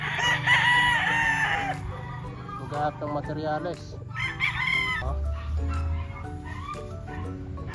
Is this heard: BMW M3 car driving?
no